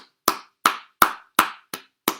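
Six separate sharp claps at an even, slow rhythm, loud and close with silence between them, for the government of Canada.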